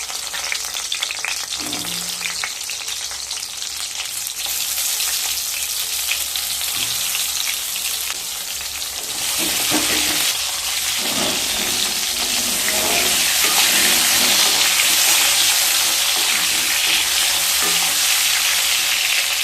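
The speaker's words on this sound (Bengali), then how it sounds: "কড়াইতে সাদা তেল দিয়ে দিয়েছি এবার পটলগুলোকে ভেজে নেবো" Loud, continuous sizzling and crackling of pointed gourds frying in hot oil in a wok, close up, growing a bit more intense partway through, with occasional stirring clatter.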